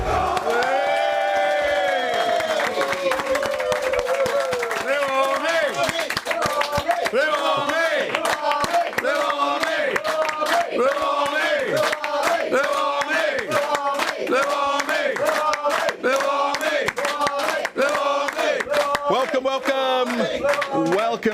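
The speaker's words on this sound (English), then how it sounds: "the capacity crowd in fine voice" A capacity arena crowd cheering and chanting in unison, with rhythmic clapping beating steadily through a loud, sustained roar of many voices.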